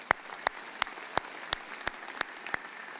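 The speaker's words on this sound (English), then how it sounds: "let's give Dr. Milne another round of applause" Sparse, evenly spaced hand claps from a college commencement audience ring out one at a time, about eight sharp claps over a few seconds, fairly close and crisp, with no talking.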